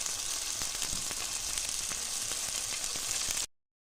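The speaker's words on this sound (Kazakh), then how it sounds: "Қызып тұрған майға осылай қуырып алатын боламын." Sausages wrapped in dough fry in hot oil, giving a close, continuous crackling sizzle with frequent small pops for several seconds before it cuts off abruptly. No voices are heard.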